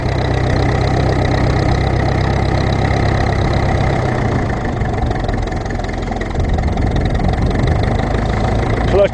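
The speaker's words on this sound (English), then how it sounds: "But this thing will rev." A Ferguson TEF20 tractor engine runs steadily and loud up close, a rough low chugging throb that holds its pace throughout, with someone talking over it.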